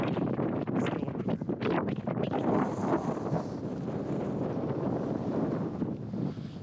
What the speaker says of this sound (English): You can probably also hear that the wind is up as well.